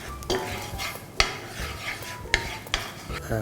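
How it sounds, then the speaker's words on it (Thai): Metal utensils clink and scrape in a hot pan over a soft sizzle of melting butter, with a few sharp taps spaced irregularly. "ดี๋ยวเรารอกระทะร้อนเนยละลายนะครับ"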